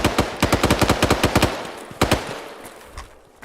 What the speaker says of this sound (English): MG 지원. MG 계속 쏴요.